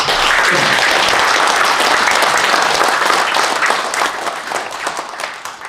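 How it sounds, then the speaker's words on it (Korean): An assembly at an annual general meeting applauds as a representative is welcomed. A loud wash of many hands clapping holds steady, then thins and fades toward the end. "박수로 맞이 주십시오"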